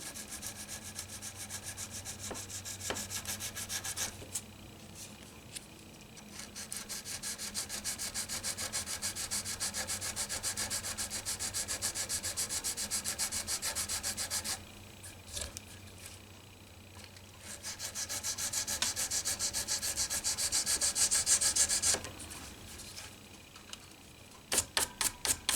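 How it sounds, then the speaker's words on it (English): A part from a 1976 Stratocaster guitar being sanded with 220 grit sandpaper, long steady stretches of close, dry rasping rubbing broken by short pauses and a few light knocks at the end. "I think I'll do some sandpaper. A little bit of 220 grit."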